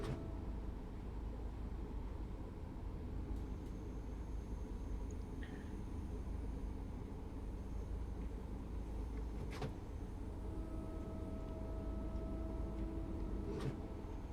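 Class 314 electric train running on the Cathcart Circle line in Train Sim World 4, a steady low rolling cab rumble with a few faint clicks and thin tonal whines over it.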